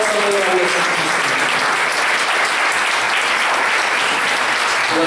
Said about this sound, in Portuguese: Palmas para a nossa Mãe Maria Santíssima.